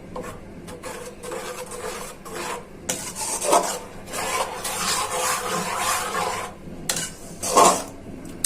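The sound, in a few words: green chili sauce being stirred in a pan over low heat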